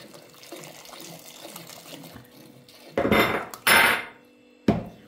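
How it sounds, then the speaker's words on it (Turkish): Hot water poured slowly into mushroom soup while it is stirred: quiet scraping at first, then short bursts of splashing, pouring liquid and a clink of a utensil against the pot. "şöyle sıcak suyunu şöyle yavaş yavaş ekliyoruz"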